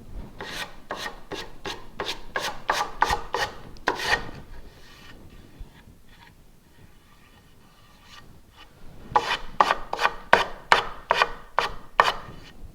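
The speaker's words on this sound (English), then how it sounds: "That's with a sanding block. Not too shabby for a nice smooth line." Rapid rhythmic rasping strokes of a sanding block on an edge banding overhang, a burst of about a dozen strokes, a quiet pause, then another quick run.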